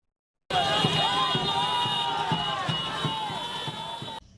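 An excited crowd in Mbuji-Mayi accompanying a political figure on his way to voter registration, a loud continuous mass of voices and chanting with rhythmic thumping beats underneath and a steady tone on top.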